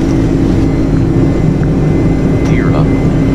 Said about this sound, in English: That was the touch and go.